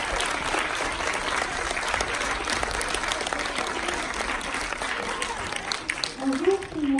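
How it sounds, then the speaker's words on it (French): A festival audience gives sustained, steady applause for film director Dorothée Vandenberg as she comes up to present her film, with a voice beginning to speak near the end. "Je propose que vous l'applaudissiez bien fort parce qu'elle va venir présenter son film."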